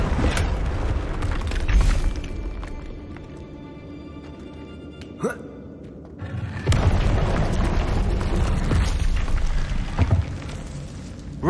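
Confringo spell explosions in Hogwarts Legacy land as a few deep booming blasts, loud and close, with a sharp crack near the middle and rumbling bursts later over a steady game backdrop.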